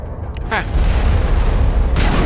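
Gunfire in the Mass Effect video game: a sharp burst followed by a sustained, loud booming barrage of shots over rumbling combat noise.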